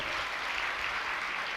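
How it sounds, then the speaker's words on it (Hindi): Audience applause at a Jain religious discourse, steady dense clapping filling the whole moment without a break, no voices over it. "ऐसे ही तालियां बजा दी क्या?"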